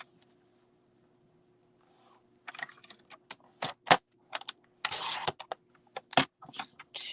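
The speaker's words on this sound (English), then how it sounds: "we're going to cut 1-inch strips" Paper trimmer slicing 1-inch cardstock strips for a pop-up card: a run of sharp clicks and short swishing cuts, close and moderately loud in a quiet room, with no talking.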